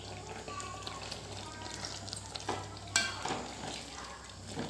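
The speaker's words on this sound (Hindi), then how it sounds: "अब हम इसे फ्राई करते रहेंगे। हम फ्राई कर रहे हैं।" Soybean curry sizzling in a pan while being stirred, a steady close frying hiss with occasional spoon scrapes and one sharper clink, a faint hum underneath.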